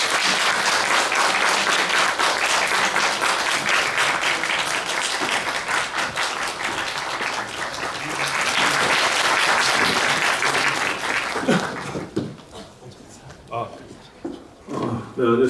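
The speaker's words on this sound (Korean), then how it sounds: "박수로 맞이해주세요" Audience applause at a Korean film screening Q&A for the movie The Beast, sustained loud clapping filling the hall for about eleven seconds, then thinning out into scattered claps and a few voices.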